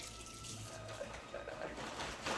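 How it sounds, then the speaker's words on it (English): Hot water runs from a kitchen tap in a steady, soft hiss of flowing liquid, faint and continuous, with a little background noise. "Let's get some hot water"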